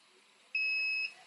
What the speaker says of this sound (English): You heard the beep and it's done.